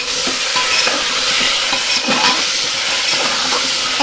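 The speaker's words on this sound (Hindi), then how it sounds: "बस चम्मच ही चम्मच चलाया 1-2 मिनट" A spoon stirring food in a hot pan, close scraping and shuffling strokes over a constant loud hissing sizzle, with no speech.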